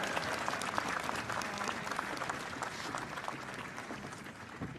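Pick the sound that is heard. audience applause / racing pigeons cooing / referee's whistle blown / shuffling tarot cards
audience applause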